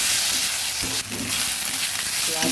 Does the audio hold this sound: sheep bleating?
no